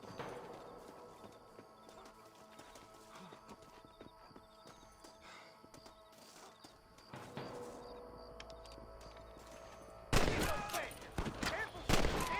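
A shootout in the video game Red Dead Redemption: scattered gunshots over horse hooves and game noise, building into a loud, dense burst of rapid gunfire near the end, with voices talking.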